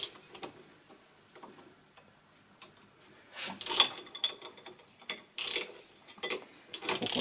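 A ratchet loosening a bolt while removing the accessory belt, tensioner pulley and alternator on a Citroën C4 engine, giving short bursts of rapid clicking with quiet pauses between, close up and without talk.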